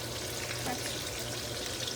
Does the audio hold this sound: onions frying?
yes